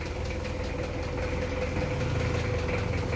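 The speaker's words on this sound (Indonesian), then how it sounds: "Ini mesinnya halus ini tuh." A 1999 Mitsubishi Kuda GLS diesel engine idles smoothly, a close, steady low rumble with a faint rhythmic knock.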